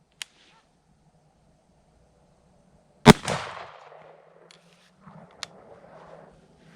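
A Benelli M1014 shotgun with a fixed modified choke fires one sharp, loud low-recoil buckshot round at a range, with a brief echo trailing off afterward and a few faint clicks around it.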